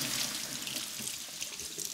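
Water runs steadily from a kitchen tap as hands are washed during cooking, a continuous close hiss and splash with no talking.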